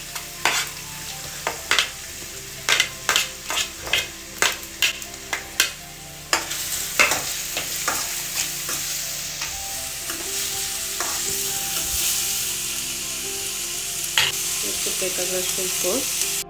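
Onion frying in a pan while being stirred, with a sharp run of spoon knocks and scrapes at first, then a fuller continuous sizzle under occasional stirring clatter.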